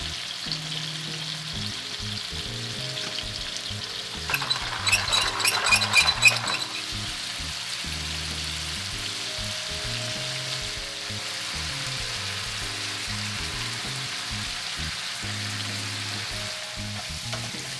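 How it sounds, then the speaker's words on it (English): Chicken seasoned with salt, pepper, smoked paprika and spice blend cooks in a pan with a soft continuous sizzle, a short burst of clinking or scraping in the middle, and a low background hum with no talking. "We are cooking this chicken all the way through."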